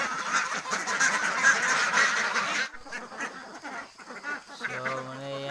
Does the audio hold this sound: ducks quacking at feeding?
yes